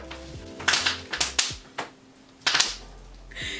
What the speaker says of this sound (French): Je roule sur du papier bulle.